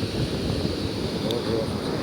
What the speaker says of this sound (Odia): ଏତେ ବଡ଼ ବଡ଼ ଢେଉ ଆସୁଛି